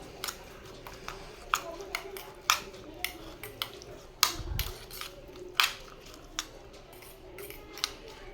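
Spoon clinking against a bowl while yogurt is stirred into homemade Maharashtrian raita, a steady series of light, sharp taps and scrapes at an irregular rhythm, close and fairly quiet.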